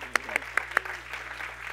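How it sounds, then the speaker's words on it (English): A few distinct, separate claps ring out sharply at a church service, followed by a soft, scattered patter of further clapping from the congregation under a faint steady hum. "Let's give a joyful clap."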